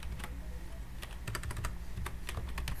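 Rapid typing on a computer keyboard while entering an SQL query, with sharp clustered keystrokes in irregular bursts, close and fairly loud against a steady low room hum, no voices.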